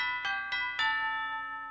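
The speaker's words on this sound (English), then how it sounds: "Well, that's my doorbell." A doorbell rings out three clear chime notes in quick succession, each ringing on and fading, with no voices.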